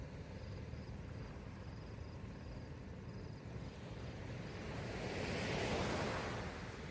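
Ocean waves breaking on a shore at a seaside camp, a steady surf wash with wind buffeting the microphone and one wave swelling louder near the end, no voices.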